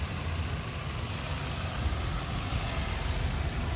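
Engine of a 2016 Hyundai Grand i10 automatic running smoothly, a steady low rumble with even, constant loudness and no speech.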